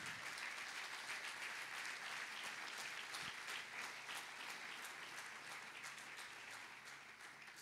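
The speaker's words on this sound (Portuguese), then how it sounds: "Vamos aplaudir Jesus" A church congregation applauding together, steady continuous clapping from many hands, fairly faint and even throughout and easing off slightly toward the end.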